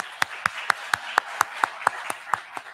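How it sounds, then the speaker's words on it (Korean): Congregation at a Sunday morning church service clapping in slow, evenly spaced single claps, about ten sharp beats at a steady rhythm, moderately close with no talk over them. "우리 3분 박수하겠습니다."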